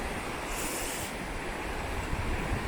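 Rushing water from a mountain river and its waterfalls in the high Alps pours on continuously as a dense hiss, with a brief brighter splash-like band early on and no speech.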